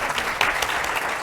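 Applause from an audience at a dementia care education conference, a steady dense patter of many hands clapping with no one speaking, holding at an even level throughout with a brief swell partway through.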